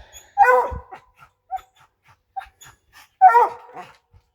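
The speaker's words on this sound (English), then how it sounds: "My squirrel dogs, instead of running around getting exercise, they just immediately get tree and tree." Hunting squirrel dogs bark up at squirrels in a tall pine near their pens, two sharp loud barks a few seconds apart with small yips and whimpers between, close by and with no talk.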